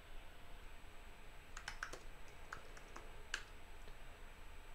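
Computer keyboard typing in a quiet room: a short burst of several quick key clicks, then a few scattered single taps, close and faint.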